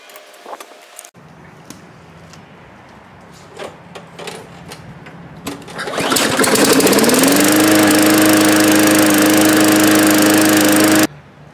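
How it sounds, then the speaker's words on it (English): A Tecumseh-powered lawn mower is primed and pulled, then its engine catches and roars at a loud steady run close by for about five seconds before cutting off, with earlier clicks and handling noise. "prime it a few times, reconnect our spark plug in the front, and start her up"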